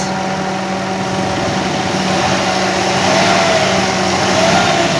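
A Mitsubishi Mirage G4 engine with a worn drive belt runs steadily near idle, then rises slightly in pitch and loudness toward the end, a close, continuous hum with a faint steady whine and no talking.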